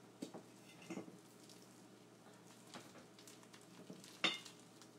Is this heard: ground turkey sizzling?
yes